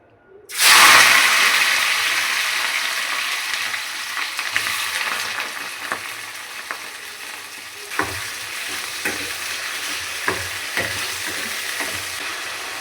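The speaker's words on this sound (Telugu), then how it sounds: "బోన్లెస్ చికెన్ పావు కిలో తీసేసుకొని ఆయిల్లో వేసుకొని ఫ్రై చేసుకోవాలి" Boneless chicken dropped into hot oil erupts into a loud, steady sizzle that continues throughout, with occasional stirring scrapes and crackles, no talking over it.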